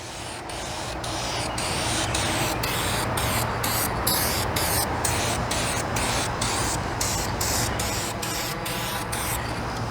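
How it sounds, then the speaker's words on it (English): Aerosol can of gloss clear engine enamel sprayed onto a brake caliper, a steady close hiss running almost continuously with short pauses between passes. "we're going to use this engine enamel gloss clear"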